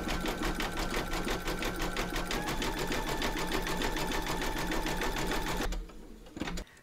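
Embroidery machine stitching a grey satin stitch round on a hooped fabric segment, a loud steady rapid mechanical buzz running continuously for most of the clip before cutting off near the end, followed by a brief faint clatter.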